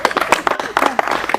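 A congregation claps in rhythm at a church wedding ceremony, a dense, close burst of hand claps lasting a moment, mixed with voices.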